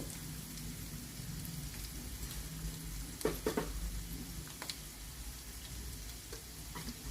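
Slit green chilies sizzle in hot oil with ginger-garlic paste, a soft, steady rain-like crackle with a few sharp spoon-against-pan knocks as the mixture is stirred, heard quietly and without talk in a home kitchen.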